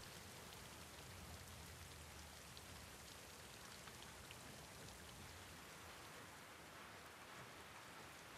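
Steady rain falls in The Last of Us Part II, a dense, even hiss of drops on surfaces that holds at a constant level with no voices.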